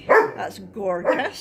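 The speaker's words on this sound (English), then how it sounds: "Excuse the dog's barking." A dog barking indoors during a home vlog, short sharp yaps mixed in with someone talking close by.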